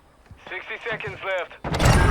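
A thrown grenade going off in Call of Duty Modern Warfare II, a sudden loud broadband blast near the end that follows a stretch of excited speech.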